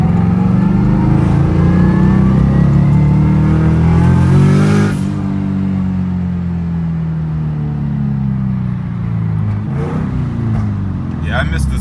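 Revving exhaust of a turbocharged Toyota FRS fitted with a resonator, heard up close as a raspy engine note that rises and falls through several revs and settles into a steady idle.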